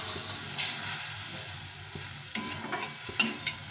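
Pre-fried bitter gourd pieces go into a pan of hot oil and a little water, sizzling close up while a spatula scrapes and stirs in several sharp, irregular strokes. No talking.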